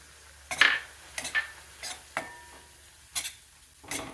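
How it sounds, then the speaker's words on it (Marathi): Gram flour roasting in ghee in a pan while being stirred, with a soft sizzle under intermittent scraping and clinking of a spoon against the pan, close and fairly quiet. "बेसनपीठ आपण छान खमंग भाजून घेऊया"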